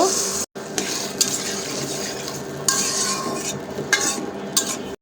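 Potato and tomato curry stirred in a pot, with repeated metal scrapes and clinks of a spoon against the pot over a low sizzle, close and steady, no talking.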